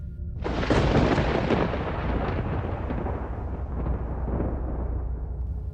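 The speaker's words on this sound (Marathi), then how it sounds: "आकाशात एक कडकडाट झाला आणि वीज चमकली" A thunder crack in a Marathi horror audiobook: a sudden loud burst that rolls into a long, heavy rumble lasting several seconds, alone with no voice over it.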